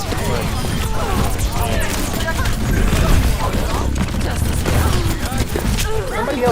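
Dense, continuous gunfire and impacts from an Overwatch match, rapid shots and crashes packed together at high volume, with players talking over the chaos.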